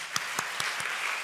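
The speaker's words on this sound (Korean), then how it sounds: "우리 그분들에서 박수 한번 하겠습니다" A church congregation at a seminary chapel service applauds, dense clapping heard close and steady through the short moment, with a few sharper individual claps standing out.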